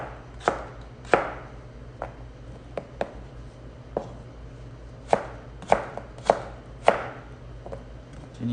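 A knife chopping potatoes into French fry cuts on a cutting board, sharp irregular thuds about a dozen times, close and clear with no talk.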